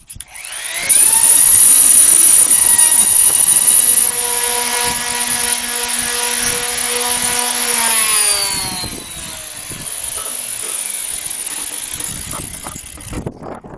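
A power sander with 60 grit works the surface of an old metal homebrew keg, a loud close whining grind that starts abruptly, holds steady, then drops in pitch and level as the tool winds down.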